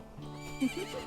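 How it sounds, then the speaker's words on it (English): A horse neighs in Zelda: Majora's Mask, a short, quiet whinny with a rising, wavering pitch over faint game music. "No, my horse!"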